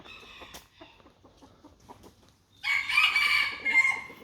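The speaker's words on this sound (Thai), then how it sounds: "เสียงไก่ขัน" A rooster crows once, loud and near, in a long drawn-out call that follows a few seconds of quiet clucking and faint background sounds at a temple in Laos.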